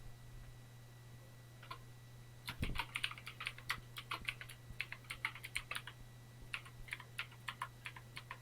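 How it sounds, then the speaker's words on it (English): Password being typed on a computer keyboard: a quick run of crisp key clicks in uneven bursts over a steady low electrical hum, close and fairly quiet, with no talking. "Entering password."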